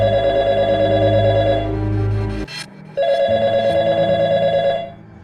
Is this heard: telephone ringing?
yes